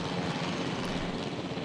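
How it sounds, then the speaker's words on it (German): Steady rotor and engine roar from a helicopter flying in Jurassic World Evolution, a dense unbroken drone held at even loudness from start to end. "Ich habe den Heli irgendwie nicht unter Kontrolle."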